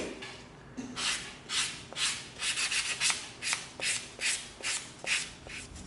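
EVA foam is sanded by hand with 220 grit sandpaper in quick, rhythmic strokes, about a dozen close, distinct scrubbing rasps with no talk.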